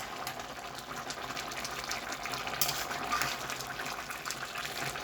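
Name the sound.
rice boiling with bubbling water in a pot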